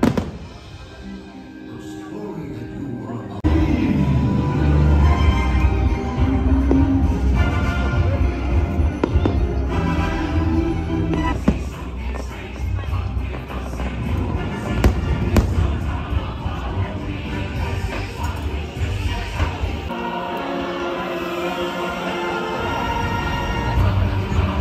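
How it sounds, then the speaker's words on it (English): Fireworks at Mickey's Not So Scary Halloween Party at Disney in Orlando boom and crackle loudly and continuously, with dense overlapping bursts over steady crowd noise from the watching audience. "we're going to watch the fireworks"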